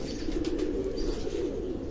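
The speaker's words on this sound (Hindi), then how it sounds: "तो यहाँ लातादाद कबूतर हैं।" Pigeons coo softly in a low, steady murmur from a rooftop loft in Karachi, with faint wing flutters and a few chirps over a constant background hum, no talking.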